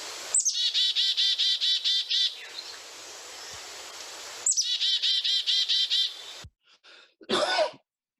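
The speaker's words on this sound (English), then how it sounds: "So that's the call, the chickadee call." Two bursts of a black-capped chickadee's rapid chick-a-dee call recorded outdoors in spring, fairly close and clear with a quiet gap between them, followed by a person coughing nearby.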